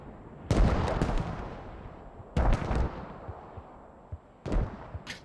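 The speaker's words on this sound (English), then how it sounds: "Got mortars landing everywhere" Mortar rounds land in a Squad match, three heavy booming impacts with long rumbling tails, spaced apart amid lighter distant crackles of fire.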